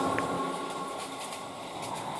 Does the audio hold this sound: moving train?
yes